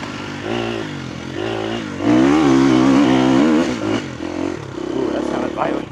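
A dirt bike ridden hard, likely a Kawasaki KLX, its engine revving and pulling with rising and falling pitch through gear changes, loud and close, with a rider's voice talking at times over it.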